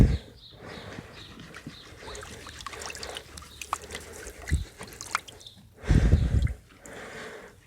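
A gold prospecting classifier and pan are shaken in water outdoors in Arizona, giving a continuous wet sloshing and rattling of gravel with a louder surge of swishing water near the end.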